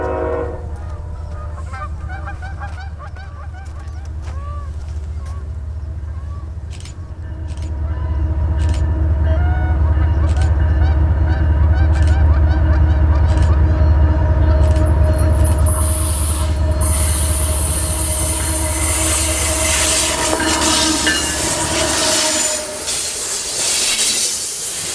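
A Canadian Pacific freight train, CP 805, led by a GE Evolution locomotive on the Windermere subdivision, sounds long loud horn blasts over a deep rumbling engine drone as it approaches, with the horn swelling louder before it breaks off near the end.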